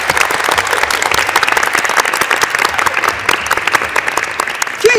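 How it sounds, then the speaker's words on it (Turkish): Crowd applause for women performing Kayseri folk dances, a loud, dense burst of clapping from a live audience that continues evenly for several seconds. "kocaman alkışlıyoruz efendim."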